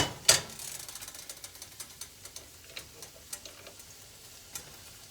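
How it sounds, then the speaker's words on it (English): A utensil stirs risotto grains in a pan, making soft, irregular scraping ticks about every half second, with one sharper knock at the start and no talking. "Keep on stirring."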